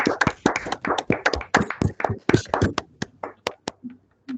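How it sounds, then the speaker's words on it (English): Scattered clapping from online participants in a virtual academic discussion, several uneven hand claps from different sources thinning out toward the end, with a brief voice near the close. "join me in giving her a round of applause"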